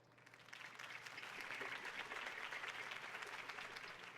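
Crowd applause after a campaign speech in a Batman Telltale video game, a dense steady clapping from many hands that swells in quickly and sustains at a distance.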